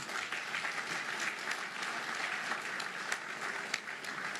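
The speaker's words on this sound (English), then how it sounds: "let's give him a big round of applause, ladies and gentlemen" An audience at a senior officials' performance contracts signing ceremony in Mutare applauds an award winner, an even wash of many hands clapping, moderately distant and sustained throughout.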